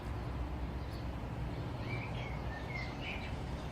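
Wild birds chirp outdoors on a sunny day, several short, thin tweets scattered over a steady low background hum, faint and somewhat distant, with no voices.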